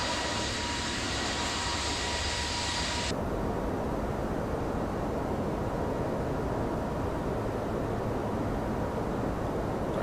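Jet engines of a Toliss Airbus A320neo in the X-Plane 12 flight simulator give a steady, loud, broadband roar throughout. A high-pitched whine rides on top for the first few seconds, then cuts out.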